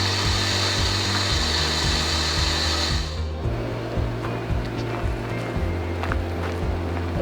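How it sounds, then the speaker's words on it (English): Air rushes out of off-road vehicle tires through a 1/4 inch hose, a loud continuous hiss over a low engine-like drone, with the rushing sound dropping abruptly about halfway through while the rumble carries on. "Come back and see how long it takes me to air down with the 1/4 inch hose."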